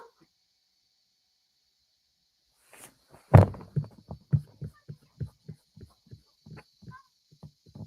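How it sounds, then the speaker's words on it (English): A heartbeat sound effect enters after a quiet stretch with a heavy opening thump, then settles into a steady run of softer paired low beats that fade gradually. "Y'all close enough to be in here to hear each other's heartbeats."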